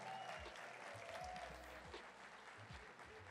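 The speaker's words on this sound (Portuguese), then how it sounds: "Vamos aplaudir mais forte esses homens de Deus?" Dense crowd applause at a church night event fills the space, continuous and even throughout, somewhat distant and soft in level, with a faint murmur of voices beneath.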